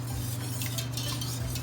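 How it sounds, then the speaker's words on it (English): Green chilies stirred in a hot pan, a short close burst of low sizzling with a scraping spoon against the metal, under a steady hum. "Give this a good stir."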